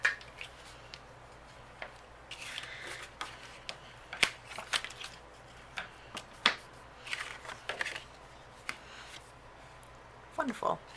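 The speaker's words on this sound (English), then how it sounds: "I'm just going to use my bone folder, kind of break these fibers a little bit." A bone folder scores and creases card stock for a dinosaur birthday card, making soft scraping and papery rubs with a few sharper taps over a low background hum.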